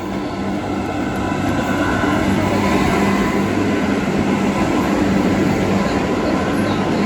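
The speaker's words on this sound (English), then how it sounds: "Comes the funicular train." A Swiss funicular train near Zermatt rumbles past close by, a dense steady roar and rattle of rolling wheels that stays loud throughout.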